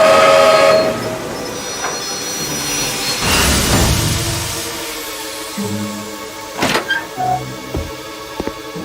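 A train pulls into Te Awamutu railway station in New Zealand, rumbling loudly at first, then easing with whooshing and hissing, followed by a few clanks and knocks as it settles. No one talks.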